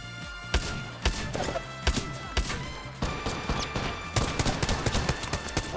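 Video game gunfire cracks in sharp, irregular shots, some in quick bursts and others spaced apart, loud and close over a busy background.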